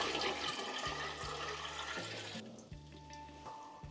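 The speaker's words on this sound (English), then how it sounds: "first we're gonna start with filling the kettle with water" Water runs into a brewing kettle for a Dutch Kuyt beer, a steady rushing hiss with faint low thuds beneath it. It is fairly quiet and continuous, with the rush thinning out partway through.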